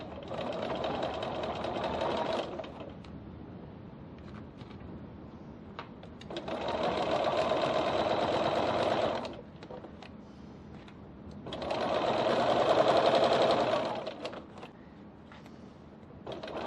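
Sewing machine stitching a strap seam on a bowler bag, three steady runs of fast mechanical whirring, each a few seconds long, separated by quiet pauses.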